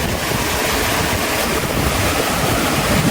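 Water rushes at a fish pond dam that is nearly full, a loud, continuous broadband wash with no pauses, mixed with wind buffeting the microphone.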